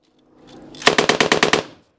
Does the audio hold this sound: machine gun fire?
yes